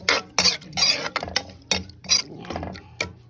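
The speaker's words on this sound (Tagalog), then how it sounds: "Haluin lang natin." Spoon scraping and knocking around a pot while salt and water are stirred in for Filipino ginataang tilapia, a run of close, uneven clinks and scrapes in quick bursts with no talking.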